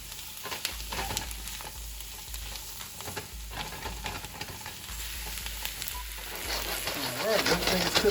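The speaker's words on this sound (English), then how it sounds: "we're gonna go ahead and add in the shrimp and the lobster tail" Shrimp, lobster tail, seasoning and vegetables sizzle in a pan for a quesadilla, a continuous hiss with stirring scrapes that grows louder and busier toward the end.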